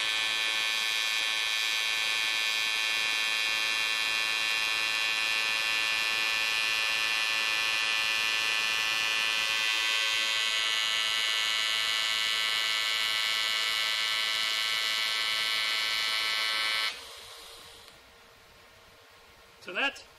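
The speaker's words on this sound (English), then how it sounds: "Listen to how DC welding sounds." A Longevity 250 EX TIG welder running DC negative pulse produces a loud, steady electric buzz rich in harmonics. It holds for about seventeen seconds, then cuts off, leaving near quiet and a brief final noise.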